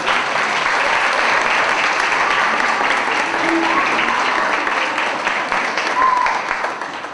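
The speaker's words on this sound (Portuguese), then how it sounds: "Palmas para minha querida." Sustained applause from a church congregation at a worship service honoring a pastor, dense steady clapping filling the room for several seconds with faint voices mixed in, tapering slightly near the end.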